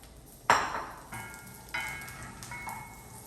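Peas hit a hot pan and crackle into a sizzle. Sharp bursts of frying come near 0.5, 1.7 and 2.5 seconds and fade between them, quiet and close with no talk.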